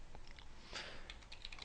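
Keystrokes on a computer keyboard during a command-line partitioning task, a short quiet run of separate clicks with a slightly louder burst near the middle.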